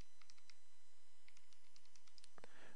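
Quiet, scattered taps on a calculator keypad, a dozen or so light clicks at uneven spacing, ending in a brief soft rustle, with no voice.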